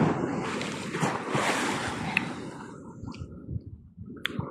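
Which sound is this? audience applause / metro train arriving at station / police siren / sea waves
sea waves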